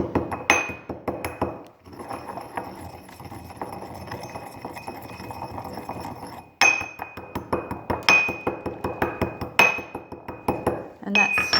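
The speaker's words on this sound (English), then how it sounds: "I like to grind my own peppercorns this way because it makes the flavour so much nicer when it's freshly ground" Black peppercorns crushed by hand in a kitchen, giving rhythmic knocking and clinking grinding strokes in steady bursts, close and fairly loud, with a brief pause between rounds.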